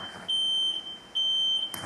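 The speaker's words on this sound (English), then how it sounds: "Keely, we hear an alarm going off there." Hotel room smoke alarm sounding in Sarasota as the power comes back on during a hurricane, two loud, piercing electronic beeps, each about half a second long, followed by a brief chirp at the end.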